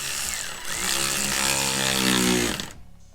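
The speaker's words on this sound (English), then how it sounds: "Now the ratchet will slow down." A ratchet tightens the bolts of an ASC rock guard on a Camaro, giving a loud, continuous buzzing whir close by for about two and a half seconds before it cuts off abruptly.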